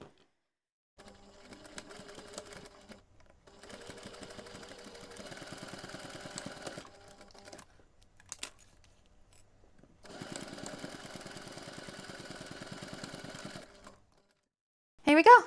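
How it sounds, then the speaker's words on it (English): A sewing machine stitches the sides of a small fabric snap keychain pouch in several close bursts of rapid mechanical whirring, separated by quiet pauses, with a short clatter at the end. "we can take this to the machine and sew along those two sides about 2 millimeters from the edge"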